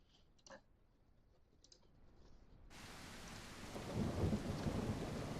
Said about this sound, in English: Let's trigger the thunderstorm.